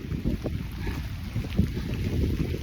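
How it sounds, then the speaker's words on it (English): Wind buffets the microphone on a wet, blustery day outdoors, a close, rough rumble with gusty swells and no talking. "So it's a little wet and windy out today."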